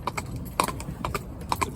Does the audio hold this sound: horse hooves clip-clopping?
yes